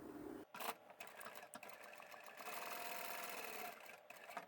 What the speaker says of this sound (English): we're going to sew right across both ends